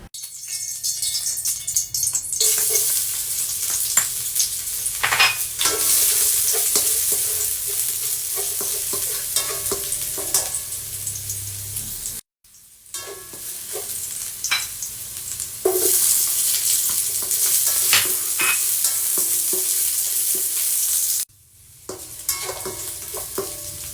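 Bean sprouts sautéing in a hot kawali, a steady bright sizzle running throughout with intermittent scraping and stirring clicks, pausing briefly twice before resuming at full strength, with no talking.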